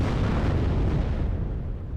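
Artillery strike called in during a WARNO real-time strategy match: a dense, sustained rumble of heavy explosions close by, steady and loud for two seconds before easing slightly at the end.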